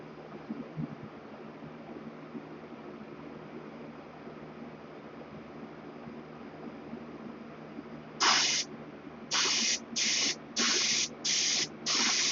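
An airbrush sprays paint onto a scale model in short bursts, about six sharp hissing shots separated by brief pauses, heard after a stretch of quiet room noise.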